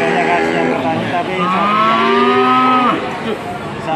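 Cattle lowing up close, a long loud moo with a rising and falling pitch, and shorter calls before and after it, heard without talk.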